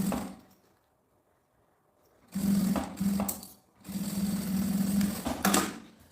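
A sewing machine stitches a seam on fabric for a cube-shaped zippered pouch, running in two steady, loud bursts separated by a short pause after a quiet start.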